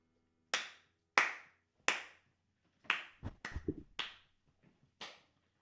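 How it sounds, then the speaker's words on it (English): Sharp hand claps recorded nearby, about eight in an uneven rhythm, with a brief cluster of softer knocks and handling noise midway before a final clap. "Don't clap"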